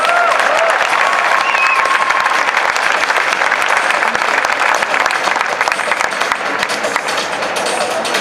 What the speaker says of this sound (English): Big round of applause for Amy Lee, everybody.